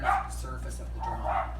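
Dogs bark in the background of an indoor studio while a person talks about mounting a charcoal drawing, the barks partly under the speech.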